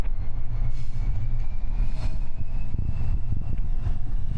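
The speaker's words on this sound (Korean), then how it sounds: "지금 백두대간 협곡열차 지나가네요." The Baekdudaegan canyon train, pulled by a white tiger-patterned locomotive, rumbles past on a winter mountain line, a loud, steady roll of wheels and carriages with a faint high squeal running over the low rumble.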